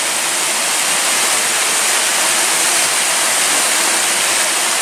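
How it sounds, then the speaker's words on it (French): A river on a hiking route near Apt rushes steadily and loudly close by, a dense continuous wash of flowing water with no voices. "Et je viens d'arriver au cours d'eau. Et là je vais traverser la rivière"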